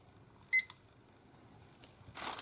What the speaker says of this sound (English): Let me put the timer on.